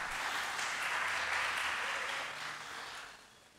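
A gala crowd at the POY 2017 awards gives a sustained round of applause, dense, even clapping at a fairly soft, distant level that tapers off toward the end.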